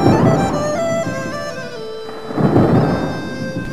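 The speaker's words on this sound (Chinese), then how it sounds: "又在打雷了，娘一定很害怕" Thunder rumbles through a storm with rain, a deep rolling roar that swells, dips midway and builds again, accompanied by sustained musical tones.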